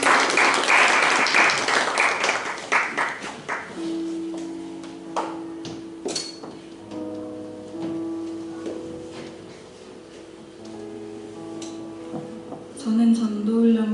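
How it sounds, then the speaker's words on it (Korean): A church congregation applauds to welcome a young speaker, loud and dense clapping for the first few seconds, then thinning out under sustained keyboard-like tones and scattered taps. "박수로 환영하겠습니다."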